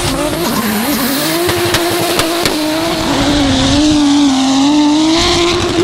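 A 2JZ-engined drift car at a French drift championship round, loud and continuous, the engine revving and wavering while the tires squeal through a long slide.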